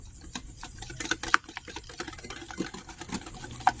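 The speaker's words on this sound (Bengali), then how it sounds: "এখন আমি ডিম আর চিনিটাকে খুব সুন্দরভাবে মিক্স করে নেব।" Eggs and powdered sugar whisked together in a bowl for cake batter, a quick irregular run of clicking, tapping strokes close by.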